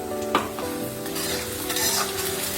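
Onion frying in a pan for Bengali katla fish kalia; a steady close sizzle with occasional stirring scrapes and light utensil clinks, and no talking.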